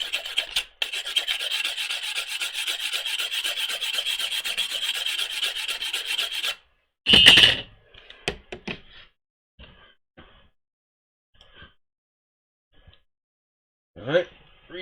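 A shiny glassine coating is scuffed off a surface with rapid, loud rubbing strokes lasting several seconds, then a burst of scraping and scattered faint knocks and handling noises.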